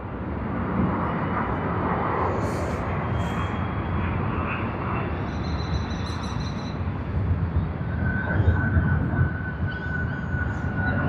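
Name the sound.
Qantas Airbus A380 arriving at Sydney Airport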